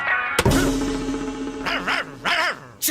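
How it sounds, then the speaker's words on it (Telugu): Dog barks and yips ring out in short bursts, loud and close, with a brief pause between the later barks. "కుక్క"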